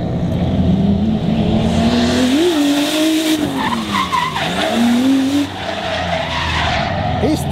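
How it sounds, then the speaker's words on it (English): Drift car tires squeal in a long, loud, continuous skid at a night Ebisu drift event, engine revving and wavering underneath, with crowd noise and voices mixed in throughout. "We gonna keep drifting."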